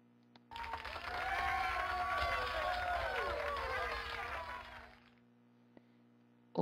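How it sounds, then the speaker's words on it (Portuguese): PowerPoint clip-art applause sound effect: one burst of crowd clapping mixed with cheering voices that swells, holds for about four seconds, then fades out. "vou colocar um áudio do Clipart, por exemplo, esse aplausos"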